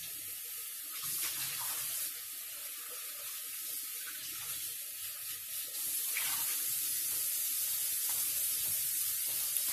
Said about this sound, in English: I just rinsed this off in the sink.